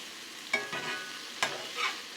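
Deli corned beef, already fully cooked, frying and being stirred in a pan: two soft bursts of sizzle and scraping about a second apart over a quiet, low hiss, moderately close with no talking.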